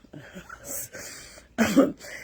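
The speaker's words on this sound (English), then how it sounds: "that's a child coughing" Muffled coughing from a child comes in a few short bursts over a low, noisy room background.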